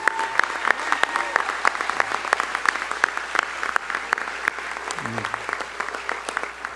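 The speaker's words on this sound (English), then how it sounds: "How about a round of applause for our legends?" Steady crowd applause at a sports hall of fame enshrinement ceremony honoring former Mizzou coaches, with many hands clapping continuously and a brief low voice murmuring underneath.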